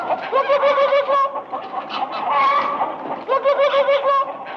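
A voice imitates a chicken, giving loud, close bursts of rapid, repeated clucks separated by short pauses.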